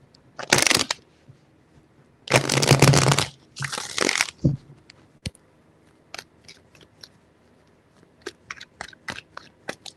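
Three bursts of tarot card shuffling, crisp riffling rustles close up, followed by scattered light taps and flicks of cards in a quiet room.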